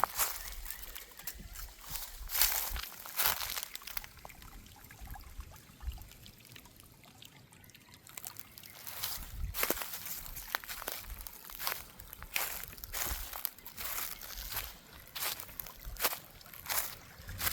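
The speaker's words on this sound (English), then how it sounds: "Look at this water flowing." Creek water pours and trickles steadily outdoors on remote rural land, with occasional footsteps and rustling nearby and no talking.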